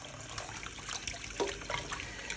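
A tap runs into a kitchen sink while tripe is being rinsed, giving a steady, close hiss of flowing water with faint splashes and clinks over it.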